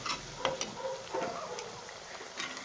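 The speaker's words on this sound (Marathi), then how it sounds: "आपल्याला खूप जास्त पण नाही कमी गॅसवरतीच तळायचं आहे" Chilli bhaji fritters fry in oil over low gas, giving a soft, quiet bubbling sizzle with a few light pops and scrapes.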